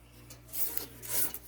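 A spatula scraping butter and sugar batter for a coconut rum pound cake off the bottom and sides of a mixing bowl, two soft rasping strokes over low hum, close and quiet.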